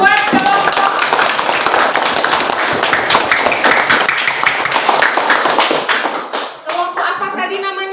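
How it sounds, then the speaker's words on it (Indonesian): A classroom of students claps for a group that has just finished presenting during a social studies lesson: dense, fast, close-up applause that fills most of the clip, then thins out as a voice begins speaking near the end. "tepuk tangan dulu dong buat kelompok"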